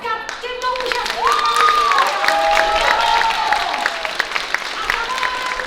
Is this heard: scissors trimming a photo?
no